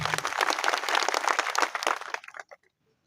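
A crowd at a political gathering in Sirali claps vigorously together, a dense burst of applause that fades out over the last second into silence.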